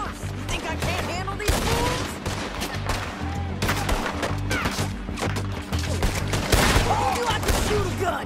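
A gunfight in Red Dead Redemption 2 with repeated loud shots and volleys cracking close by, mixed with game music and occasional voices.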